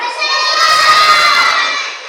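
A classroom full of children shouts together in a loud, sustained burst, many young voices blending into one continuous roar before it fades slightly.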